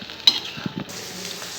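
Onion, ginger and garlic paste with capsicum and green chilies sautés in a pan, with a brief sizzle and a few quick spoon scrapes and clicks, close and short.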